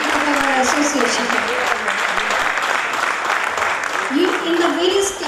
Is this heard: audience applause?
yes